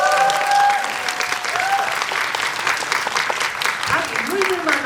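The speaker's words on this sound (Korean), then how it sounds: "박수 한 번만." Dense, steady applause fills a film talk event for the Korean movie 'Hope', sounding close and sustained across the whole stretch with faint voices mixed into the clapping.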